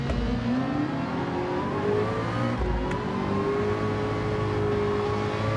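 Ferrari engine in the racing game Gran Turismo 7 scraping along a wall, a loud continuous rev with rising and falling pitch and a brief dip as gears shift, no talking.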